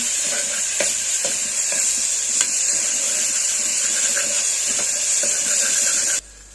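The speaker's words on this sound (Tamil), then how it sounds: "இஞ்சி பூண்டு நல்லா வதக்கிக்கலாம்" Ginger and garlic sauteing in hot oil in a pan for a beef curry, a loud continuous sizzle with scattered sharp utensil taps, running steadily until it cuts off near the end.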